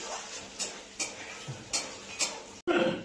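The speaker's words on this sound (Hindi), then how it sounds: "अब इसमें हम अपना मसाला जो है वो डाल देते हैं, अच्छे से चलाएंगे इसे।" Spice paste goes into a pan of browned onions for a prawn curry and is stirred, giving a few light utensil taps and scrapes, then a brief burst of sizzling at the end, all fairly quiet.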